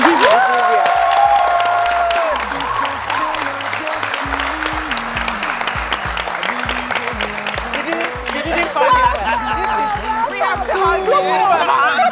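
An audience applauds and cheers a musician taking the stage, strong clapping with shouts, while a voice speaks over it and the clapping gradually thins toward the end.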